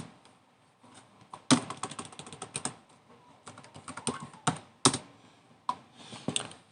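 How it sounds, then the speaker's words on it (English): Typing on a computer keyboard while coding CSS, with rapid bursts of close, crisp key clicks separated by short pauses, heard alone with no talk. "my typing is a bit rusty"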